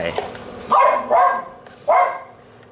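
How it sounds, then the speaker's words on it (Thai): A dog barks three times in loud, separate bursts near a home kitchen where beef tendon and tripe rice soup is simmering, with steady low background hum between the barks. "กำลังเห่าอะไรไม่รู้"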